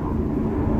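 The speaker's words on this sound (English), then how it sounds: "Helicopter, airplane, whatever it is." An airplane or helicopter passes overhead, a steady low rumbling drone that holds at an even, fairly loud level with no voices.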